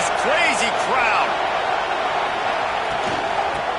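Steady roar of a packed stadium crowd in College Football 26, a broad continuous wash of noise under an excited commentator's voice.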